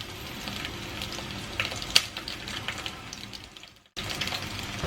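Garlic and shallots frying in a pan for Thrissur-style kolli upperi, a steady soft sizzle with faint crackles and a brief clink, cutting out abruptly near the end before resuming.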